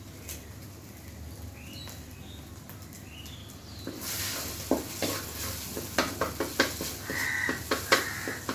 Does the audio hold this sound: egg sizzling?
yes